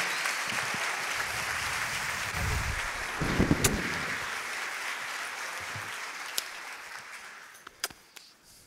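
An audience applauding two speakers welcomed on stage at a conference event, a broad sustained wash of clapping with a few crisp isolated claps near the end and a brief low murmur partway through.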